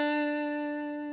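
A single sustained electric guitar note, a bluesy minor seventh in a rockabilly rhythm, rings out clean and steady, slowly decaying with rich overtones.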